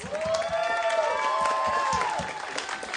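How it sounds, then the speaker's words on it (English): A crowd at an outdoor protest in Houston applauds and cheers for straight allies, a short burst of clapping and whoops heard from a distance, with a sustained tonal sound running over it. "So if we could get a round of applause for all of our straight allies."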